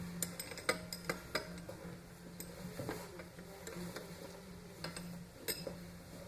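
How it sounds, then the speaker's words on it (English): Metal push rods dropped one after another into the head of a Polaris 700/800 engine during a top end rebuild, giving light clinking taps at an irregular rhythm, close up and fairly quiet. "Go ahead and drop your push rods back in."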